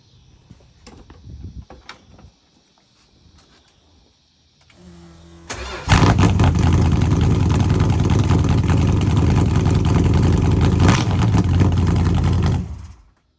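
A 1968 car's engine cranks briefly, then roars to life and settles into a loud, steady, rumbling idle that holds for several seconds before cutting off.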